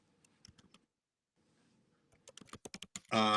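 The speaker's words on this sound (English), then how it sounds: "I'm typing, so I just can't see what you're typing" Keys on a computer keyboard tap out a quick run of crisp clicks after a near-silent stretch, building into a dense burst of typing at the end.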